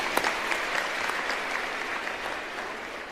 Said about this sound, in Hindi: मेरी तरफ से अपने लिए जोरदार ताली बजाइए।